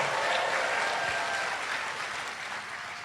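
A church congregation applauds steadily, a dense wash of clapping with scattered shouts of praise mixed in, fairly loud throughout and fading slightly toward the end.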